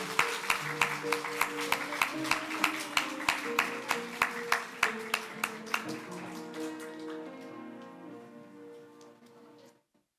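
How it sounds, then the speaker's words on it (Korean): A church congregation claps together in a steady, even rhythm over soft music, the sharp beats carrying for several seconds before giving way to the lingering music. "자, 우리 박수로 축하하며 격려해드리겠습니다."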